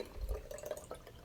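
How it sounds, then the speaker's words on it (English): Water is poured into a plant propagule container, a brief, faint trickle and splash with a small gurgle lasting barely over a second. "Pouring more water in."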